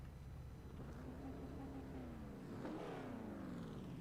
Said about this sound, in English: He's revving it, he's putting his foot down.